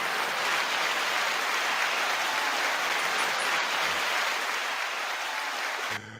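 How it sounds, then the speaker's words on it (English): An audience applauds continuously for about six seconds, a dense, hissing wash of clapping at even loudness that cuts off abruptly at the end. "9-second applause over Mike Eagle."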